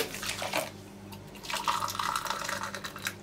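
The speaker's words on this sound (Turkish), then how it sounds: "Bir buçuk su bardağı da kaynar su ilave edeceğim." Boiling water poured into dry bulgur for kısır, a steady liquid splash and trickle with brief drips, close and moderately loud, no talking.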